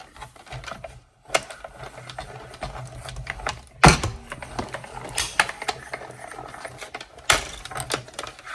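A paper card runs through a die-cutting machine for a trellis Easter card, making soft mechanical rolling and clicking with a few sharper knocks, fairly close and moderately quiet, with no talking.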